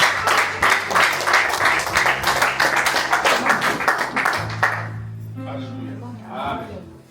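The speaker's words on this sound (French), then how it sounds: "Nous acclamons très très très fort pour Jésus-Christ" A church congregation at a Sunday service claps and cheers loudly and continuously, then the applause thins out while a voice speaks over it.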